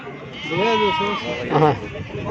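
Sheep bleating close by at a weekly livestock market in Gudur, a couple of wavering calls over a busy background with people talking.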